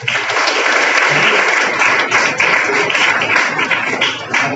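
Children at a ten-day acting camp for kids, run by the Maharashtra state, clap for themselves in loud, dense, sustained applause that holds steady for several seconds.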